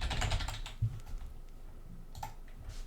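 Typing on a computer keyboard while writing code, a quick flurry of soft key clicks at first, then sparser taps, faint and close with no voices.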